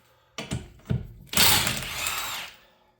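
A power tool whirs briefly during a rear brake line repair on a 1999 Honda Civic, with two short clicks or bumps before a close burst of spinning noise lasting about a second and fading out.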